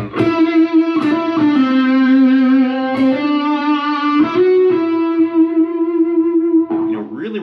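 Electric guitar plays a fluid legato solo entrance, with long sustained, heavily effected notes, distortion and reverb, close and loud with no talking.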